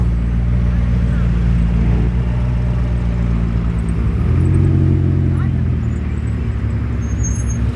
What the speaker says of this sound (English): So the Lambo guys are parking right there inside the employee parking